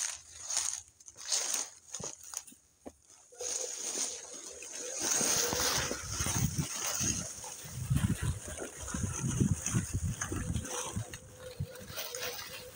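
A dog splashes and wades through a creek on a hot day along a trail, with irregular sloshing and splattering water that grows fuller and steadier after the first few seconds, close by, with no talk.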